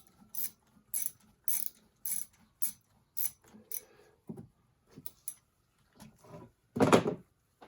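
Ratchet loosening a 10mm nut on a 2000 Toyota Sienna intake duct, a series of sharp close clicking bursts in a steady rhythm, followed by a few softer clunks and a louder rattle near the end.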